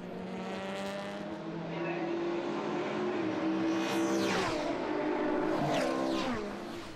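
Race cars brake hard into the chicane at Zolder during a Supercar Challenge race, engines dropping and then rising again as the cars pass close by and fade.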